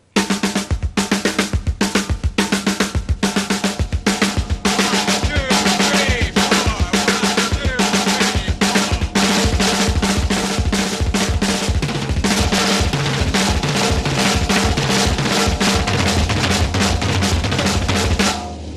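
A drum kit plays a steady, fast sixteenth-note groove in 4/4 with crisp cymbal and snare hits, loud and close, with no talking.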